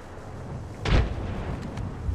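A frag grenade detonates in the video game Apex Legends: one sharp, loud, close blast with a deep thump, then a short fading rumble over steady in-game background noise.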